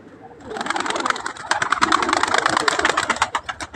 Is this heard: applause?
no